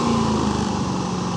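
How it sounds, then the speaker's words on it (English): Predator 9500 super quiet inverter generator running about ten feet away, a steady continuous engine drone with a constant low hum. "Now, I have this generator running about 10 feet from us,"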